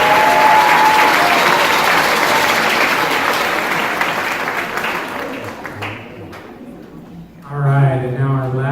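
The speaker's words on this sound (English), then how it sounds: "another round of applause for all four of those solos" Audience at a middle school spring band and choir concert applauding the solos, a loud sustained round of clapping that tapers off, followed by a voice speaking near the end.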